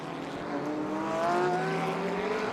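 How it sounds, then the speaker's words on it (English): Rear-engine, normally aspirated Porsche and turbocharged McLaren 720 GT race cars at Donington Park, a steady engine drone with rising and falling pitch sweeping past at mid distance, no voices. "Rear-engine, normally aspirated Porsche under pressure from turbocharged McLaren 720"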